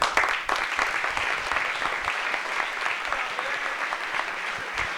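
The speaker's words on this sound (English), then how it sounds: "So I just want to give these people a great round of applause." A crowd at a football and soccer banquet claps steadily throughout, dense and sustained applause with no pauses, fairly loud and close.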